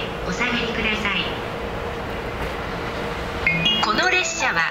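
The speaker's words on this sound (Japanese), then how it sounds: "まもなく2番線に当駅止まりの列車が参ります。" A JR East train pulls into a platform at Abiko Station on the Joban and Narita lines, its rolling rumble and rail noise steady and moderately close, with platform voices and announcement tones layered over it.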